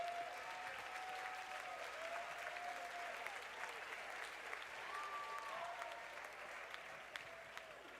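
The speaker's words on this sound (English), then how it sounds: "Big round of applause for all of our winners here." Steady, distant applause from a crowd at a swing dance competition awards event, continuous clapping lasting the whole stretch with faint music tones underneath.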